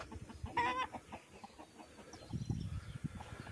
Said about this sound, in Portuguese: Isso aqui é tudo para as galinhas.